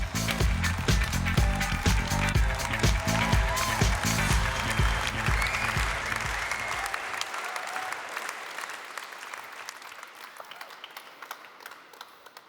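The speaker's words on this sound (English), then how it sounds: "this is the last round of applause" An audience at the GREEN AWARDS ceremony applauds loudly and densely, a sustained wash of clapping that gradually thins and fades over the final seconds.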